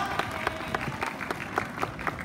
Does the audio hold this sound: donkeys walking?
no